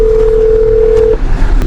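A steady telephone dial tone hums for about a second while a local number is being called back during a snowstorm, then cuts off, leaving faint background noise.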